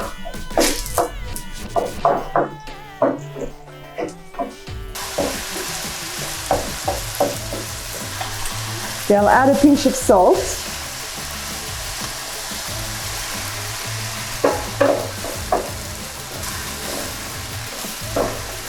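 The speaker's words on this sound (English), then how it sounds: "I'll wait for the oil to be hot, and I'll start by frying the chicken" Steady oil sizzle and crackle of chicken frying in a pan, with occasional stirring clatter and a brief spoken remark over it.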